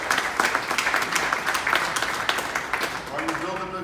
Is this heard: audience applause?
yes